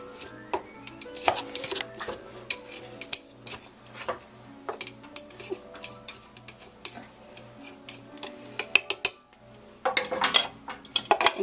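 Giant chopsticks scraping down the sides of a blender jar, a series of irregular close clicks, taps and scrapes against the container, some in quick bursts, with no talking.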